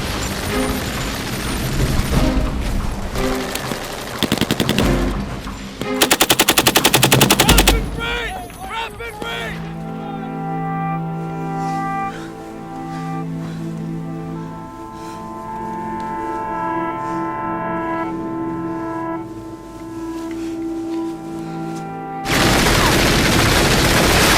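Loud, rapid bursts of machine gun fire ring out in a war film battle scene, then fade under a sustained musical score before the gunfire returns; voices are shouting.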